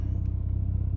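Turbocharged car engine idling while still cold, a steady low rumble with an even pulsing throb, close and continuous without talk.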